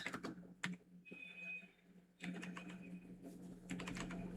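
Someone types on a computer keyboard, tapping out soft, quick clicks in two bursts separated by a brief pause. The sound is faint and close, with a low steady hum underneath.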